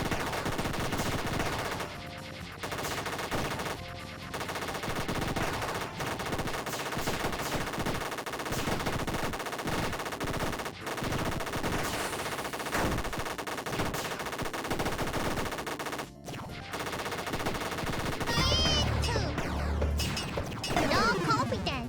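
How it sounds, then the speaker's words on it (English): Machine gun fire in a video game: sustained loud rattling bursts of rapid shots with brief gaps, plus crashes and game sound effects, and a little voice in the mix. "Machine gun."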